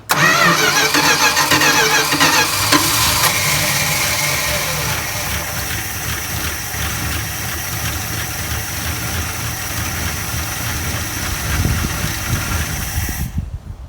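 An older car engine cranks and fires after a tune-up, catching loudly up close and settling into a steady, slightly rough idle that runs for several seconds before cutting off.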